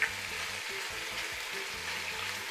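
Pork ribs searing in a hot pan, a loud continuous close sizzle with crackle, starting with a brief burst as the meat goes in, over a faint low background hum.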